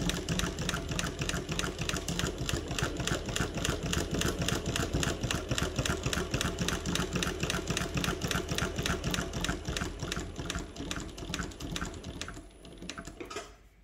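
A Mauzer chain stitch embroidery machine runs in a steady, rapid mechanical rhythm of needle strokes, close and continuous for about twelve seconds before slowing and stopping near the end.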